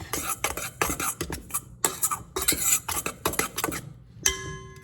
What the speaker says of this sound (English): Now we are going to mix this all up.